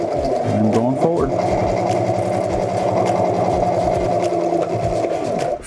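A sewing machine stitches fabric for an adjustable face mask, running in a steady, fast, buzzing whir with a brief reverse stitch near the start, while a person talks over it.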